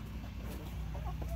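Chickens cluck close by in a farm setting, a short burst of clucking over a steady low background hum, with no one talking.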